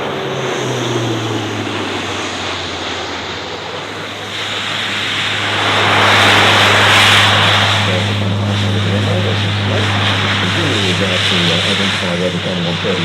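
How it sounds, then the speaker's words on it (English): A C-130J Hercules turboprop flies over at the Avalon airshow, a loud steady propeller drone with a strong low hum that swells as it passes overhead, continuous for the whole stretch. "right now they would be controlling the C-130J Hercules, which is flying over to do a circuit before it comes into land"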